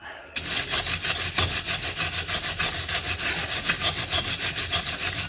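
A wire brush is scrubbed hard over a corroded car battery terminal on a 2008 Pontiac Torrent, making fast, steady, rhythmic rasping strokes close up with no talking.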